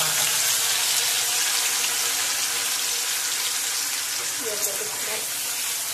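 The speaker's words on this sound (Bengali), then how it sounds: "এবার কড়াইতে সর্ষের তেল গরম করে এর মধ্যে পেঁয়াজটাকে ভেজে নিতে হবে।" Onions frying in hot mustard oil in a kadai, a dense, loud, unbroken hiss of sizzling oil held close throughout, with no clear stirring accents.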